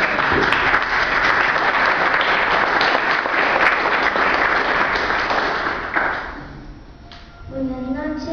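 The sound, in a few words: audience applause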